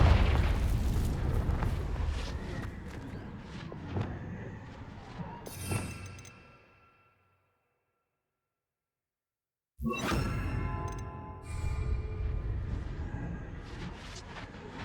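Confringo fire spell blasts in Hogwarts Legacy, a run of booming, crackling explosions and whooshes that cuts to dead silence for a few seconds, then returns with loud bursts and rumbling impacts.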